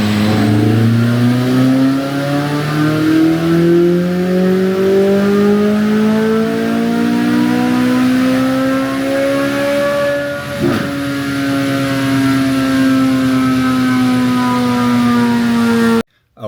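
Tuned car with an Eventuri carbon air intake on a chassis dyno, producing over 600 wheel horsepower: a loud, sustained engine run with rising harmonic pitch as it climbs through the revs, a brief shift-like dip near ten seconds, then cutting off abruptly.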